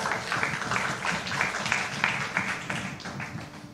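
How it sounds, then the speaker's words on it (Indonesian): Congregation in a church service clapping for God, dense steady applause filling the room at moderate loudness from start to finish. "Tepuk tangan bagi Tuhan kita, saudara"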